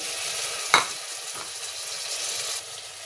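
Chopped onions dropped into hot oil in a pan, giving a sharp hiss on contact that settles into a steady close sizzle, with a spoon scraping and stirring through them.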